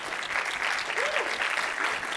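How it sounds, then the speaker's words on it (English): Audience applause at a Bitcoin conference's open source stage as panel speakers walk on, a steady dense wash of clapping from a crowd filling the whole moment, with a brief whoop rising partway through. "Do we clap them as they come on stage?"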